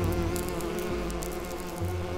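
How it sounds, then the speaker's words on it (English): In a video game, a steady insect buzz of bees drones continuously, fairly close and constant, with no voices over it. "I hear bees."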